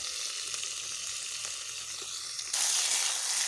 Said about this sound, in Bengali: আবারও ভেজে নেব টমেটোগুলো যতক্ষণ না অবধি গলে যাচ্ছে